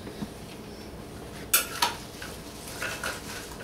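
A spoon stirring cheese tortellini in a pot, giving a few quiet scrapes and clinks against the metal, with two sharper knocks near the middle, faint and close.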